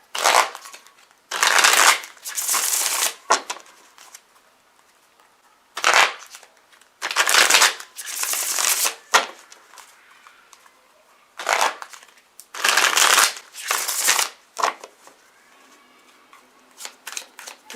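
Tarot cards being shuffled for a reading, heard as repeated bursts of crisp riffling and flapping separated by short quiet pauses, close and fairly loud with no talking.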